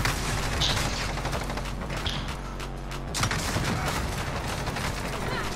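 Gunfire in the Call of Duty video game, with dense, continuous shooting and mechanical clatter throughout, loud and busy, with a player's voice partly mixed in.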